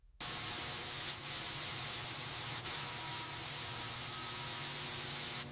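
Steady, loud spray-gun hiss of milky brown paint being applied to a heavy CAT TITAN truck chassis during restoration, running continuously for several seconds with only brief dips.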